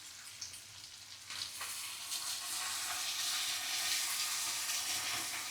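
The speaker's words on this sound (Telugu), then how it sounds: "ఇప్పుడు క్యాబేజ్ వేసుకుందాం." Shredded cabbage hits hot oil tempering seasoned with salt for a Telugu-style cabbage fry, setting off a steady, loud sizzle that swells after the first second and holds as a dense, continuous crackling hiss.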